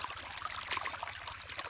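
Water jets from a sprinkler head at the far end of a 3-inch pipe fed by a 10-horsepower diesel engine driving a high-pressure pump, making a faint, steady hiss.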